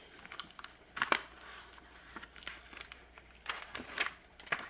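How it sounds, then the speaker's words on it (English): Tape is peeled in short crackly rips and ticks off a sublimated flat iron holder fresh from a heat press, irregular close bursts separated by quiet pauses. "let's remove the tape"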